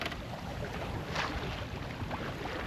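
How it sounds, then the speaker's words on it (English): A small sailboat beating into the wind on a solo passage from the Scilly Isles toward Cornwall: steady wind buffeting and rushing water noise, close and fairly quiet, with a brief swell of spray or gust midway. "Trying to beat into the wind."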